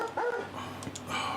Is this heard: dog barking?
yes